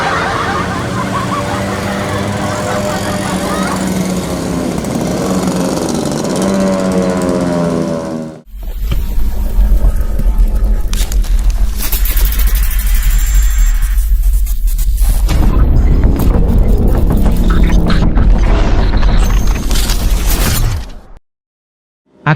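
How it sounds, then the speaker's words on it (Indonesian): Motorcycles riding and cornering at night around Monas in Jakarta, loud close engine roar with revving and a harsh rattling exhaust, cutting off abruptly partway through and returning before ending suddenly. "Aktivitas warawiri anak motor Monas, terkenal dengan corneringnya"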